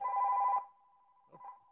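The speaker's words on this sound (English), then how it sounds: "Sorry about that phone ring there." A telephone rings once during a chamber of commerce online presentation, a short trilling bell burst followed by a fainter sustained tone and a weak second blip, alone and fairly quiet.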